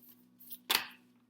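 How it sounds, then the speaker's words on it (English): A Moonology manifestation oracle card deck is shuffled in a quiet room, a single short papery riffle burst standing out over a faint low hum. "shuffling the Moonology deck, the Moonology manifestation deck"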